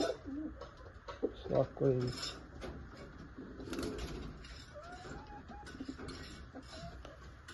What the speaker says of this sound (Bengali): এই হচ্ছে নর কবুতর,